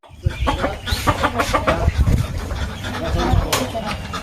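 Native village chickens squabble over food nearby, with dense overlapping clucks and agitated calls and a person talking over the flock.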